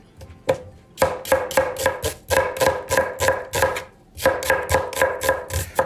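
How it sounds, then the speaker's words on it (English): Onion being chopped with a knife on a board, a quick series of sharp crisp knocks in uneven bursts with a brief pause midway, close and loud. "I start with a tiny bit of onion, chop it."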